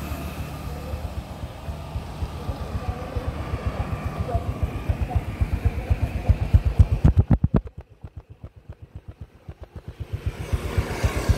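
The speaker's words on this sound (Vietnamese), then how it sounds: "Kêu bô đẹp luôn." A 2006 motorcycle idles with a rhythmic, throbbing exhaust beat close by. The pulses grow stronger, then drop away briefly before the engine picks back up to a steady idle.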